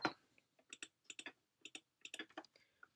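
Keystrokes on a computer keyboard while entering a custom key in a web page builder, soft close clicks in short bursts separated by brief pauses, quiet and with no one speaking.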